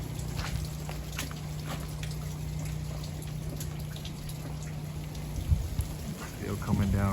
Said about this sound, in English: But raining though. It says freezing rain.